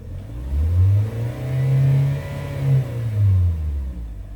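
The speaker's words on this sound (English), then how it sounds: "but if I do rev it up" A cold 2014 Hyundai Sonata, Korean spec, revving its engine repeatedly at close range, rising and falling in several smooth surges between brief dips toward idle, with no talk.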